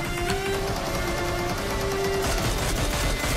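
AKM rifle fire in PUBG, with rapid, dense shots rattling without pause under a constant wash of game noise and music, loud and close.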